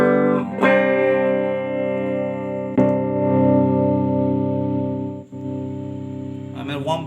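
Sustained chords from an Ibanez Artist AR220 electric guitar through a Peavey Studio Pro 112 Transtube amp at minimal distortion, light grit, ringing out and changing a couple of times, with brief pick scrapes between them.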